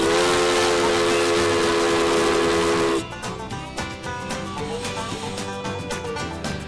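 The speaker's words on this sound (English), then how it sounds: "as the train rolls by, none of the local horses pay much mind to this big iron horse" A steam locomotive on the Ohio Central's Buckeye Route sounds a long, loud multi-tone whistle for about three seconds, then its cars roll past with steady clanking and rumble close by.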